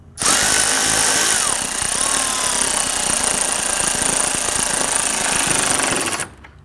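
A power tool snugs down radiator bolts on a 2010–2019 Ford Taurus, giving one loud, continuous rattling burst of a few seconds up close that cuts off abruptly.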